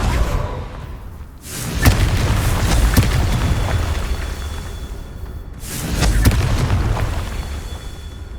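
Confringo blasting spell from the Hogwarts Legacy video game: two deep booming blasts several seconds apart, each swelling into a rolling rumble with scattered crackling pops and thuds between them.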